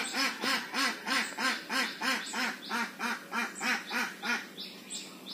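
Repeated loud duck quacking, about a dozen rhythmic calls in steady succession, close by with no talking, in a village setting.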